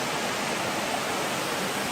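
A small canyon waterfall on a stream in the Kaz Mountains, with spring water running high, giving a dense, unbroken roar of falling water, loud and close, with no voices.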